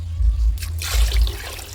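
Water pours into a cooking pot for soup in a short, gushing splash that comes in two brief surges, close and moderately loud, with no talking.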